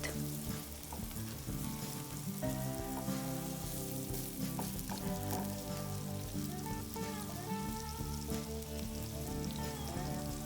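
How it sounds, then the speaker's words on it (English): Chopped onions fry in warm oil for Peruvian ají de gallina, a steady close sizzle and crackle with occasional spoon stirring clinks, continuous and fairly quiet with no voices. "We get our onions in there, and we're gonna let them cook until they turn translucent and soft"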